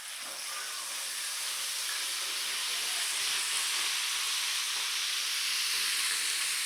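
Chicken pieces deep-fry a second time in hot oil, making a dense, constant hiss and sizzle that holds steady and loud from start to end; there is no talk.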